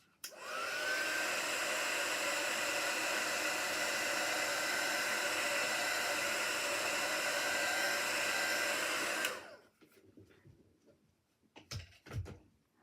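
A hair dryer blows steadily for about nine seconds to force-dry chalky paint, a loud, continuous close-up whoosh that cuts off abruptly, followed by a few faint handling knocks.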